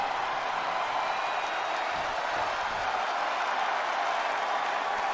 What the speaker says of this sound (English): And Money Mike trying to get some energy from this crowd here